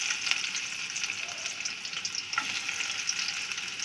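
Garlic frying in hot oil in a pan for Hakka noodles: a steady, moderately quiet sizzling hiss that holds evenly throughout, with small crackles and no voices.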